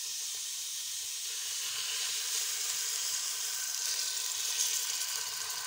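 Chopped onion fries in half a cup of oil for a cauliflower chicken curry, making a steady, soft, close hiss and crackle that holds evenly for several seconds with no voices.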